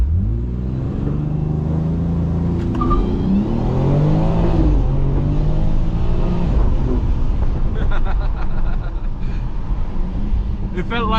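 A 2022 BMW X3 M Competition launches hard from a standstill under launch control, its engine note climbing loudly and continuously through the run while people talk excitedly over the noise.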